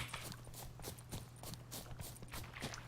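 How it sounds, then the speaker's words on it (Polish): Horse hooves clop in a fast, steady rhythm in The Witcher 3 as a horse gallops after the player, moderately close over a low constant hum. "O, koń mnie goni."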